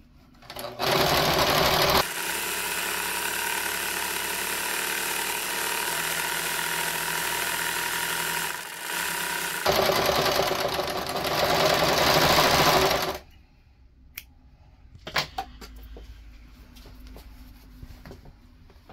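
A sewing machine stitching 18th-century fall front trousers runs in two long steady whirring bursts with a brief pause between, then stops, leaving a few faint handling clicks.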